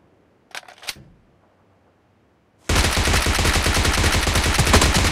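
PUBG gunfire: a couple of sharp shots early on, a short quiet gap, then loud rapid automatic fire that keeps going to the end.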